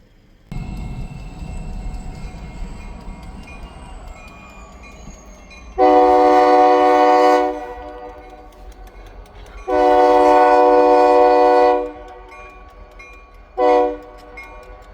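A freight train made up of a buffer car and placarded tank cars rumbles by steadily, and its horn sounds three times, two long blasts followed by one short one, loud and close.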